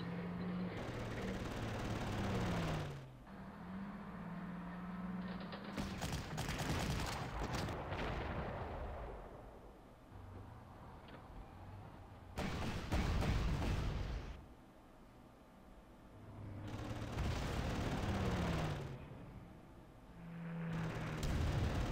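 Artillery fire in the WWII strategy game Panzer Corps, set at Moscow in 1941: several heavy, rumbling bursts of booms and crackling blasts that come and go over low, droning tones.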